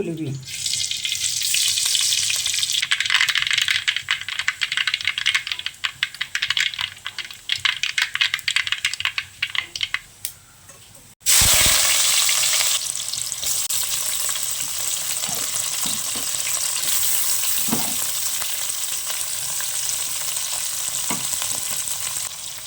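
Mustard seeds frying in oil for a river fish curry as a loud, dense crackling sizzle with fast popping, which cuts briefly and then resumes as a steady hissing fry, close throughout.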